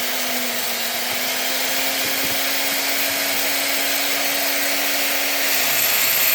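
A power tool grinds a fire agate stone, kept wet, to open a window into its first layer. A loud, continuous, steady whine with a constant hum underneath holds unbroken throughout.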